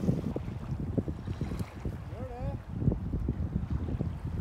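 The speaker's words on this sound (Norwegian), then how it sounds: "Det er helt med vinden, altså." Wind and lake waves around a packraft paddled downwind across a Finnish lake, a continuous gusty rush with lapping water and mic buffeting, with brief voices in the background.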